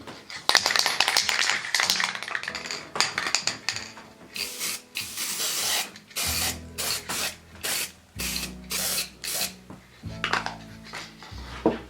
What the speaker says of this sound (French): je vais utiliser une bombe de peinture, donc dorée